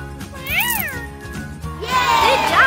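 A cartoonish kitten meows twice in high, bending cries over a bouncy game soundtrack, with cheerful electronic music playing throughout.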